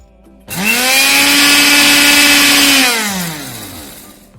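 Mixer grinder whirring as it grinds black pepper, salt, cumin powder and black salt into a spice masala; a loud motor kicks in abruptly, holds a strong steady whine for a couple of seconds, then winds down.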